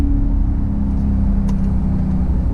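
A Dodge Scat Pack on Atturo AZ850 tires pulls away from a start in second gear, its engine a loud, deep, steady roar with a low droning rise, close and continuous.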